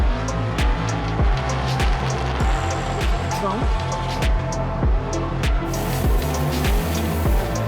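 Drift cars, including a Corvette, run in close tandem with loud revving engines and repeated tire squeal across a continuous, dense roar, while a commentator speaks over the action.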